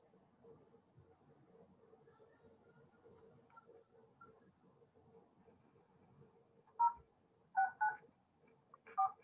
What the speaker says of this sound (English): Do you hear me dialing?